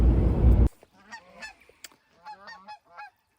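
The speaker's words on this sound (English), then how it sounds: "Some geese flying around making a lot of noise." Geese honk repeatedly as they fly over farmland near Helmville, with loud, uneven bursts of calls in quick succession after a brief noisy opening.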